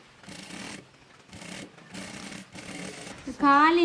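A sewing machine stitches a princess line frock along a quarter-inch seam, running in four short bursts with brief pauses, close and moderately loud, followed by a sharp tonal sound at the very end.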